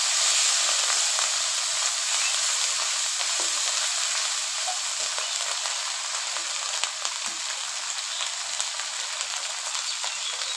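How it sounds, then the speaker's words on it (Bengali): Onion paste hits fried onions in a pan while cooking a koi fish curry, giving a loud, continuous hiss and sizzle that stays steady throughout with no talking. "পেঁয়াজ ভাজা হয়েছে, পেঁয়াজ বাটা দিয়ে দিলাম।"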